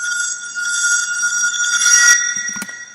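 A reversed, slightly time-stretched glass smash: bright, sustained glassy shimmer that swells and thickens toward a peak, then breaks off into a few sharp clinks.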